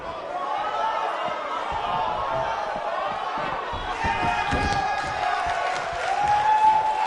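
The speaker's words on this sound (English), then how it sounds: "We have a sold-out, record-setting crowd here for BCW tonight." A wrestling arena crowd in WWE 2K19 roars and cheers in a continuous wash, with scattered thuds and a swell in volume toward the end.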